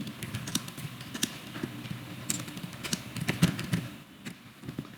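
Keys on a computer keyboard are tapped in short irregular bursts, with sharp clicks over a low background hum and no speech.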